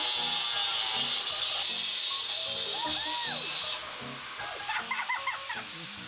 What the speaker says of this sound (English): Right, angle grinder.